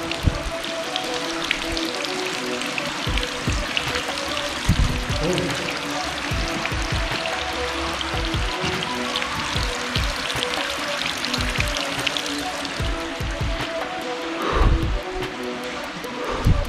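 Water spilling over a safety overflow inside a tunnel, a continuous splashing and trickling rush with irregular patters and bursts, echoing and moderately loud, with a person talking now and then.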